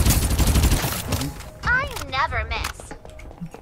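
Rapid bursts of gunfire from the Farlight 84 battle-royale game, dense at first and then in short clipped volleys, heard amid game voice lines and other effects.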